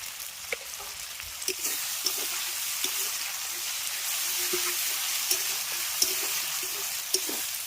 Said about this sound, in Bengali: এবার মশলাটাকে প্রথমে খুব ভালো করে ভেজে নেব